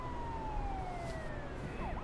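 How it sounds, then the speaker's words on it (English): A police siren wails from a video game trailer, a faint descending tone sitting beneath a dense, steady rumble of background noise. "Why do you got to hear a siren going on?"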